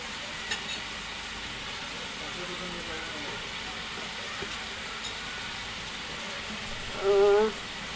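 Shredded cabbage with chana dal and salt being stirred in a hot pan, a steady soft sizzle with faint scraping, a louder stirring scrape near the end, and a voice talking over it.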